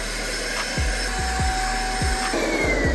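A vacuum cleaner runs steadily and loudly inside a BMW F34 GT cabin, its continuous motor whine close up, with several dull knocks as the nozzle bumps interior surfaces and a pitch shift partway through.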